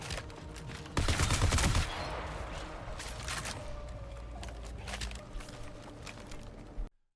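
Rapid automatic gunfire from the video game Marathon bursts loudly in a dense volley, then continues as a steady stream of quieter shots before cutting off abruptly.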